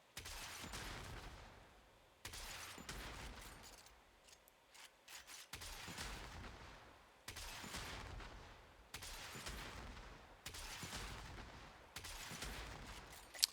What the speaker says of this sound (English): Now if I alternate fire while they're in the air,